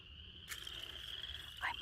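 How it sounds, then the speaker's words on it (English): Frogs croak near a farm pond where beavers have dammed the water, a steady high trill running throughout with a louder, closer call near the end, no voices. "I want you to hear the frogs"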